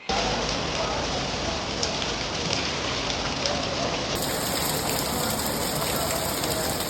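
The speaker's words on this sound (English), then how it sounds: "it's pouring with rain today." Heavy rain pours down in Bali in a dense, constant hiss of drops, loud and unbroken throughout.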